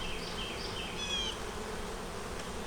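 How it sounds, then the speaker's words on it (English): Honey bees at a hive on foundation, a dense, continuous buzzing drone close by, with individual bees droning past in brief higher passes over the steady hum. "they're hard working little bees"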